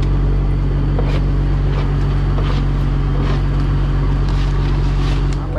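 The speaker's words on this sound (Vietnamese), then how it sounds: "Bây giờ ghe bắt đầu chạy vào bờ thôi" A fishing boat's engine drones steadily and loudly as the boat heads toward shore after a shrimp trawling haul at sea, with wind rushing across the microphone.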